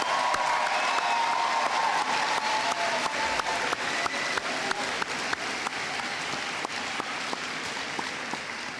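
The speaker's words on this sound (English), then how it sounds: "I want everyone to give a round of applause to the amazing graduates of the class of 2023" A graduation crowd applauds the Holy Trinity class of 2023 in a sustained, even roar of clapping, with a few sharper individual claps popping out near the microphone.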